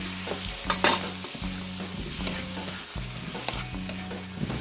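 Tomatoes for mechado fry in a pan with a steady sizzle, punctuated by repeated scraping and clinking stir strokes at a regular rhythm, close and moderately loud with no talking.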